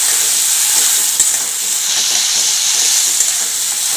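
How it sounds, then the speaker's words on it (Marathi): Soaked moong dal fries in hot oil in a pan, giving a continuous, close, loud sizzling hiss with faint crackles throughout and no talk. "ही डाळ तेलामध्ये छानपैकी अशी परतून घ्यायची"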